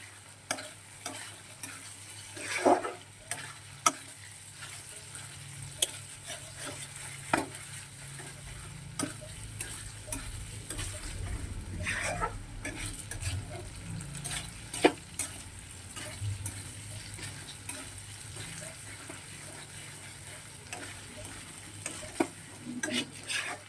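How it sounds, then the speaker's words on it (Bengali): Masala paste with salt sautéing in a pan for egg dum, a steady soft sizzle punctuated by frequent clicks and scrapes of a spatula stirring, close and moderately quiet with no talking. "এবারে এটা কিছুক্ষণ একটু ভালো করে কষিয়ে নেবে"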